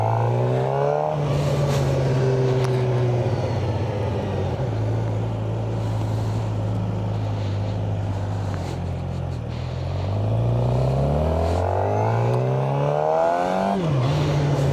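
A Suzuki GSX-R 600 motorcycle revs up through its gears, the engine note climbing and then dropping with each shift, loud and continuous over steady wind rush for the whole stretch.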